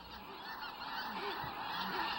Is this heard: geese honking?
yes